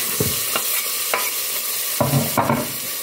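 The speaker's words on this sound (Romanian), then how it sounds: "Apoi tigaia, olița și le pun aici la prăjit." Chopped vegetables fry loudly in a pan for potato soup with chicken, a steady close sizzle broken by several scraping stirs.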